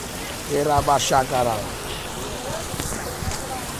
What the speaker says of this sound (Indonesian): Hujan lagi ya?